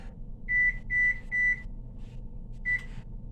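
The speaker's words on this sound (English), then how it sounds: "we're going to set the oven for 350" Four short electronic beeps, three in quick succession and one after a pause, come from an oven control panel as it is set to 350, clear and close over a low kitchen hum.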